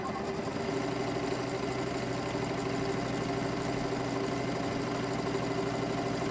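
A Janome sewing machine stitches quilt fabric at a steady, continuous pace, with an even mechanical whir and a rapid needle rhythm that stays consistent and fairly close.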